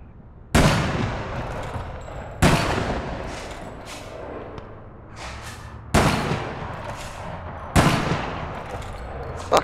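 Heavy gunshots in the online shooter APB Reloaded, four loud booming blasts spaced a couple of seconds apart, each trailing into a long rumbling decay, with no talk.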